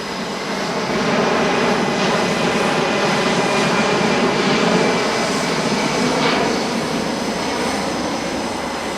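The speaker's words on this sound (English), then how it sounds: "This is the backbone of the US heavy airlift capability, with more than 200 C-17s in service." A Boeing C-17 military transport aircraft at an airshow practice display, engines running, producing a loud, sustained jet roar that swells gently and holds steady throughout, with no talking.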